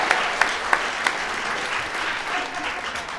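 A studio audience at a British sketch comedy show gives a few sharp, scattered claps at first, which quickly fade into a soft, steady crowd rustle.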